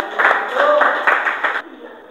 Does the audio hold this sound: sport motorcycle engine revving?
no